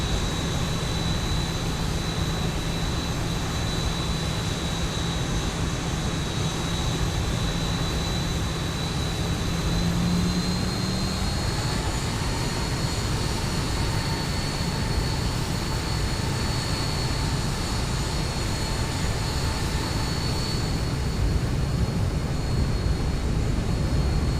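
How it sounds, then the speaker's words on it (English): At Bangor airport, a steady, loud jet engine roar and high whine go on for the whole stretch without a break, with no voices over them. "There's a big military presence here in Bangor."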